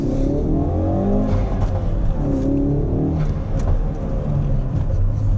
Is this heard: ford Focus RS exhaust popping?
yes